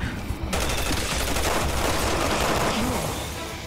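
Gunfire in the video game Resident Evil 6 rattles in a dense, continuous burst that holds loud for several seconds before easing off slightly at the end.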